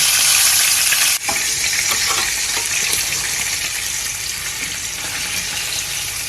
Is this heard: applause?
no